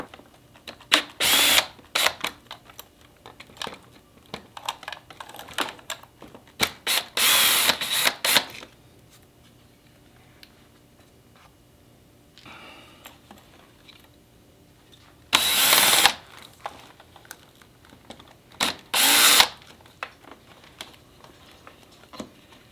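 A power drill backing out Phillips screws from the speedometer and tachometer gauges on a Harley bagger, several loud whirring bursts of a second or two each, separated by quiet pauses and faint handling clicks.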